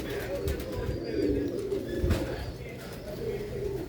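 Pigeons coo in low, soft, rolling calls, repeating a few times close by.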